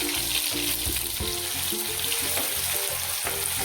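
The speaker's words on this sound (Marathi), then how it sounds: "गोळामध्ये मी लसूण अद्रकची पेस्ट आहे ती टाकून घेते" Garlic-ginger paste hitting hot oil with cumin seeds for a spicy Maharashtrian ridge gourd curry, giving a loud, steady sizzle and crackle throughout, close and continuous with no talk.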